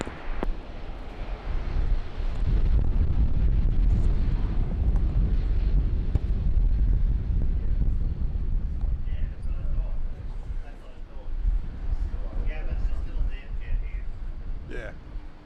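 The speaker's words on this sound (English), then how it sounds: "Wind is really starting to pick up now." Strong wind at Brisbane Airport roars steadily into the microphone, a loud low rumble that eases slightly toward the end while a voice talks faintly over it.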